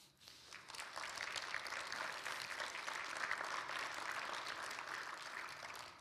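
Faint, sustained clapping from an audience fills the clip, a steady dense patter heard from some distance.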